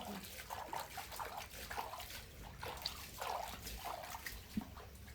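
Something is washed by hand with water, producing faint, intermittent splashes and trickles in a quiet room with soft voices nearby.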